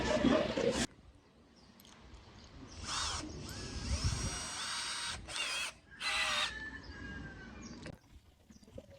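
Cordless drill with no hammer setting boring into concrete, heard in several separate bursts of whining motor and grinding bit, close and moderately loud, with quiet pauses between runs.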